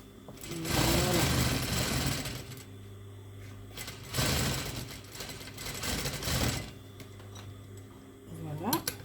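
Sewing machine stitching the hem of a pleated skirt, a fast steady whirring hum in several bursts with short pauses, close and fairly quiet, with someone talking softly over it.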